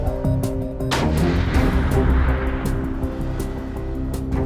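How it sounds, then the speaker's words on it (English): A single loud rifle shot on a deer hunt in hilly mountain country, a sharp blast that booms and rolls away in a long echoing decay. "I'm about to take a shot."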